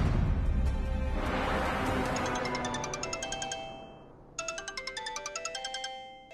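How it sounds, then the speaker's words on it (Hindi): Mobile phone ringtone ringing in a domestic drama scene, a bright repeating electronic melody that plays over a swelling background music bed, stops briefly, then resumes alone in quick rhythmic pulses. "किसका फोन है?"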